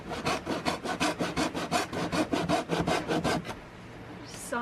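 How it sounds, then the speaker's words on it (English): Handsaw cutting wood furniture aboard a sailboat crossing the Pacific, about fifteen quick rhythmic back-and-forth strokes close by, then stopping into quiet ambient noise. "Sawing furniture underway."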